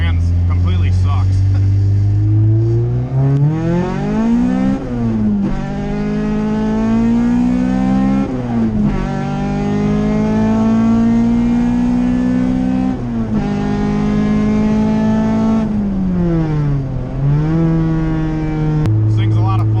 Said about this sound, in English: The trans makes a shitload of noise, like the input bearing or something is bad on it.